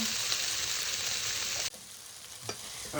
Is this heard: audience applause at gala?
no